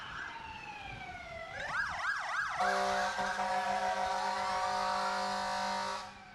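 A Cecil Fire Department fire truck siren at a parade winds up with a rising whoop and warbling wail, then a loud, steady electronic tone with an air-horn-like drone, close and sustained before cutting off; a brief voice is heard.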